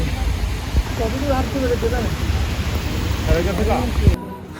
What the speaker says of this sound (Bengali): বৃষ্টি আর বৃষ্টি